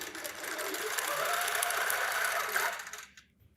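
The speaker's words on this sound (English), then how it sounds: "We'll do a single stitch and hit sew." A sewing machine runs a single stitch on fabric for a duffle bag, whirring steadily and fairly loud for about three seconds before stopping abruptly into near silence.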